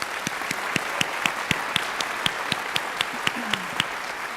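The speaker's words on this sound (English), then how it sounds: "Please, will you give our board a round of applause?" School board trustees receive steady audience applause at a district awards ceremony, with even clapping throughout and a few sharper claps that stand out near the microphone.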